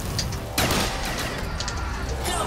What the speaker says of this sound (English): I think it's an automatic shotgun.